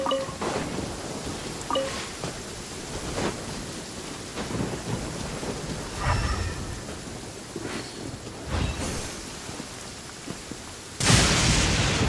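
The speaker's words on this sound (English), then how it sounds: "Thunder can mask the sound of movement, which is why it's our friend." A thunderstorm in the video game Genshin Impact: steady rain patters throughout while several deep thunder rumbles and cracks roll in at intervals, with a louder burst near the end.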